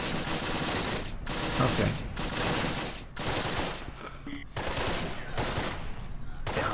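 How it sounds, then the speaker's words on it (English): Explosions and gunfire in the WWII strategy game Close Combat, with grenades bursting during a fight against grenadiers: dense, loud, continuous battle noise in repeated surges, and a voice speaking briefly over it. "We need to clear these grenadiers out. I hear grenades going off."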